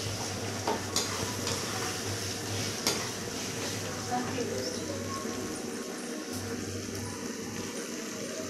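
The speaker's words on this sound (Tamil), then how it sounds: "நல்லா வதங்கட்டும்." Food being sautéed in a pan on the stove, a steady soft sizzle with the scrape and clink of a spoon stirring, close and continuous, with a low hum underneath.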